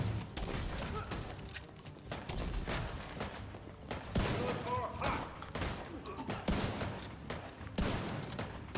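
Gunfire rattles in a cooperative shooter video game while enemies are fought, with dense overlapping shots and bursts at a moderate distance, and players talk over the shooting throughout.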